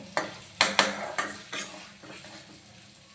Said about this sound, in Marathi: गरम मसाला मीठ मी टाकलेला आहे अगोदरच त्याला थोडंसं आपण हलवून घेऊया